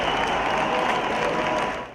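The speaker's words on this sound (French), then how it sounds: "Des cars de CRS applaudis par des manifestants." Protesters at the Paris republican march of 11 January applauding passing CRS police buses, a brief, steady wash of outdoor clapping at moderate distance.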